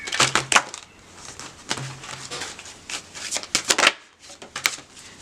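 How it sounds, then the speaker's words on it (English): Tarot cards are riffled and shuffled in quick, papery bursts, close up, several rounds in a row with short pauses between. "One more shuffle."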